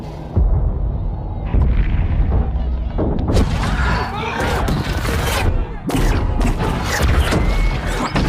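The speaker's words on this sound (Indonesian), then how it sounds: "senjata itu menembakkan peluru yang menimbulkan ledakan" Loud blasts and crashing booms burst out in quick succession, with heavy rumbling between impacts and some muffled voices underneath.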